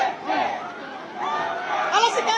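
A crowd shouts and cheers for Vice President Sara Duterte, a dense swell of overlapping voices at moderate distance that rises in bursts.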